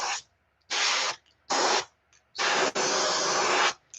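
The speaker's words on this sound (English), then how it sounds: "I'm spraying into my rinse cup over here because I'm not paying attention again" A paint sprayer fires short bursts into a rinse cup while painting a pike jerkbait lure, giving four loud airy hissing blasts with brief gaps, the last one longest.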